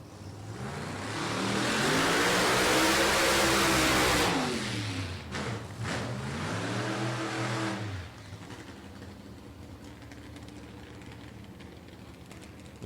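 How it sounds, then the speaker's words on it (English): An injected nitro drag racing car engine at Beech Bend Raceway Park growls at low RPM, loud and close, with a deep pulsing groan that rises and falls, eases off partway through and fades to a quieter idle. "Love the low RPM groan of the injected cars."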